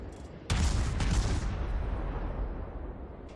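Heavy naval gunfire from a Cleveland light cruiser in World of Warships: two loud, close salvos half a second apart, followed by a rumbling boom that slowly fades.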